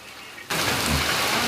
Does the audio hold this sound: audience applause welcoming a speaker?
no